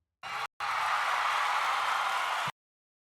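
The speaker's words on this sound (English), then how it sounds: "I'm going to add the crowd cheer sound effect" Stock crowd cheer sound effect from iMovie: a broad roar of cheering and applause that starts, breaks off briefly, then runs steady and moderately loud for about two seconds before cutting off abruptly.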